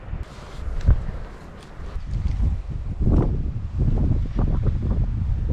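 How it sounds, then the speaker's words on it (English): Outdoor wind during a hunt, rumbling and buffeting against the microphone in a steady low roar with gusty swells and no talking. "That wind's just doing a little bit of dodgy stuff."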